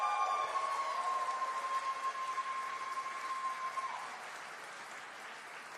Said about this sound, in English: can we have some applause for her, please